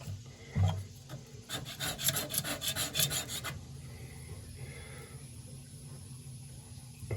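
Excess foam is scraped off a wooden boat, a close, rhythmic series of rasping strokes for a couple of seconds after a single thump, then a quiet hiss.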